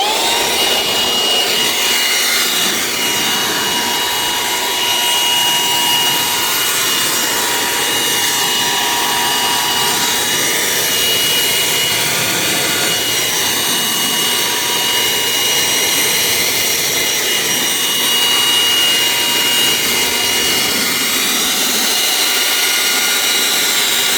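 A leaf blower fitted with a short 3D-printed nozzle runs steadily for the whole stretch, a loud, close, continuous roaring whoosh with no talking.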